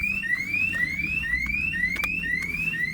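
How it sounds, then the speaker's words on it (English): A car alarm sounds right after the car is locked on a UK dealer's forecourt, repeating rising electronic whoops about twice a second, loud and steady, over a low background rumble. "Let's lock this one, but whoa, set the alarms off as well."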